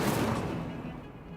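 A fiery burst from the Incendio spell in Hogwarts Legacy, a sudden loud whooshing blast that flares up at once and fades away over about a second.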